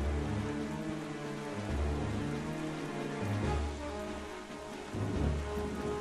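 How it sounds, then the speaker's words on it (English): Steady rain pours in The Legend of Zelda: The Wind Waker HD, a dense continuous patter of drops on surfaces in a dark, stormy game world, with low rumbling swells underneath. "The world continually rains and is dark"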